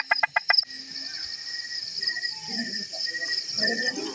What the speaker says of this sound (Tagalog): naririnig niyo po ang daming palaka dito kasi umulan